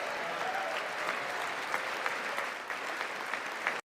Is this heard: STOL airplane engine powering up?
no